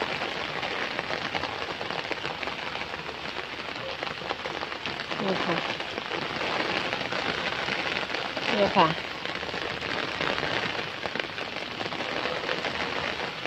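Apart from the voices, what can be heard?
rain falling during a storm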